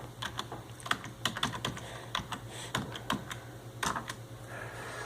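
Fingers typing a password on a computer keyboard, producing a close, uneven run of light plastic key clicks with brief pauses between them and no talking.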